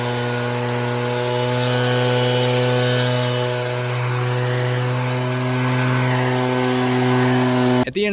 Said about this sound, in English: this thing is a fantastic blower